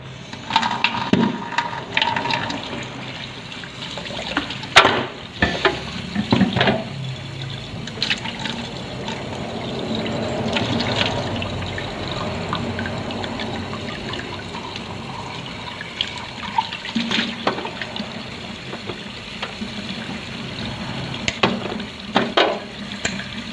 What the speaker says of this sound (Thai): ก็เลือกที่จะมาล้างจานก่อนเลย เนาะ ก็ล้างจานกัน